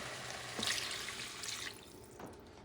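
Water is poured into a cooking pot for Puerto Rican asopao rice stew: a quiet, steady splashing pour with a couple of louder surges, close by and without talk.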